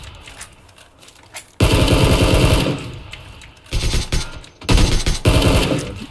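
AK rifle gunfire in a video game comes in loud sustained automatic bursts, one long volley followed by two shorter ones, with almost no talk.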